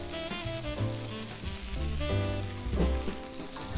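Salmon searing in a hot pan, a close crackling sizzle with uneven pops and swells, mixed with background music and no talk.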